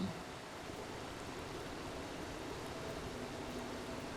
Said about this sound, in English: Where's this rushing water at?